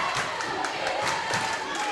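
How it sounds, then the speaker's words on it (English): Basketball crowd in a high school gym during a tied game, a dense steady roar of voices rising in pulses like a rhythmic chant, loud and continuous throughout. "CPA crowd chanting defense."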